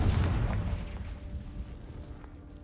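A Confringo blasting spell in the Hogwarts Legacy video game sets off a loud, booming explosion at the start that decays into a rumbling tail and fades over a few seconds, with no talking.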